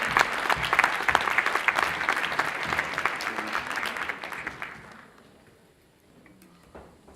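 Festival audience applauding at an opening-night gala of an international African film festival, a dense, loud burst of clapping that fades out after about five seconds into quiet room tone.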